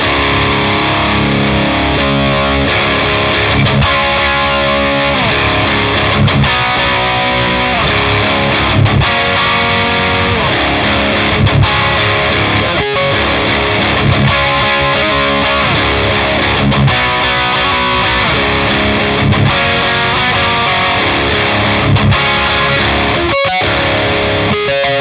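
Electric guitar through a Friedman Jose 20 amplifier set to a high-gain tone: thick, saturated distorted riffs played loud and continuous, with chugging rhythmic chords and short gaps.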